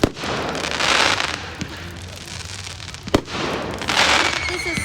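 Fireworks go off in several sharp pops and crackling, hissing bursts spaced a second or two apart, loud and fairly near, with quieter gaps between them.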